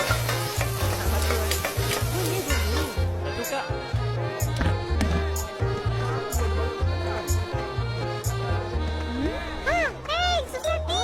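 Fried chicken sizzles and crackles at a food stall, a steady frying hiss running beneath busy animated cartoon sounds and voices speaking over it.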